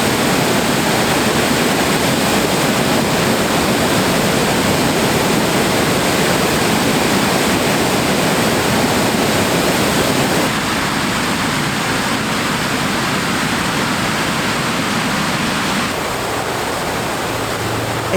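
A man-made waterfall on the Delaware River at high water roars in a loud, constant broadband rush that stays unbroken throughout.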